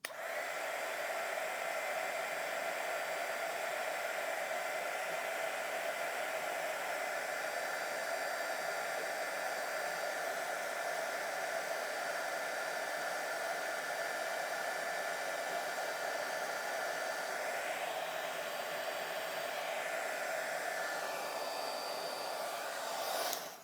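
A heat embossing tool blows a steady, continuous whirring hiss over embossing powder on a card panel, holding an even level for the whole stretch with no talking.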